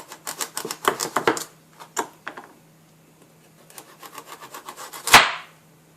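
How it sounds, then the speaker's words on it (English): A very sharp knife cuts raw butternut squash into thin slices on a board. A quick run of close, crisp cuts and taps comes first, then sparser strokes and one louder final chop, with no talking. "You're going to need a very sharp knife, and you're going to cut them into thin slices"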